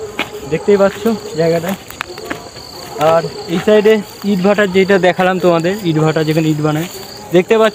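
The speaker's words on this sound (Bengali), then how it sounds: "ইভেন ঝিঝি পোকার ডাক এখানে শোনা যাচ্ছে এখন।" Crickets in quiet village countryside keep up a steady, high, continuous chirr through the whole stretch, sitting beneath someone talking almost nonstop close by.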